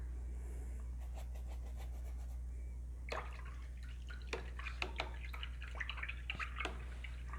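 A paintbrush rinsed in a water container during acrylic landscape painting, soft faint splashes and drips in quick irregular bursts over a steady low hum, with no speech.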